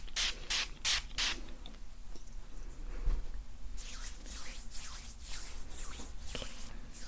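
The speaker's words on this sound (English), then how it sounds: "I'm just gonna spray my hand." Liquid is sprayed onto a hand in a series of quick, close pumps, a burst of several hisses at the start and another run of sprays later, with soft rubbing and handling in between.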